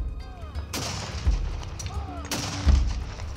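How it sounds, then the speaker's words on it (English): Two loud, booming cannon shots fired from a stranded cutter ring out, each a sharp blast followed by a rolling decay, with faint voices in the background. "The stranded cutter fired a cannon shot across the yacht's bow"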